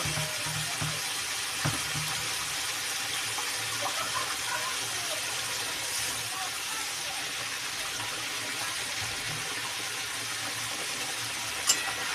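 Water pours steadily into a hot pan of bhola fish cooking in mustard paste, a continuous close hiss and sizzle that runs evenly throughout, with a soft knock near the start and another near the end.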